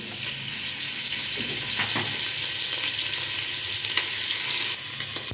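Meat and pieces of fat sizzle in a pot of okra on the stove, a loud, steady frying hiss with a few soft clinks and stirring bumps, close and continuous with no talk.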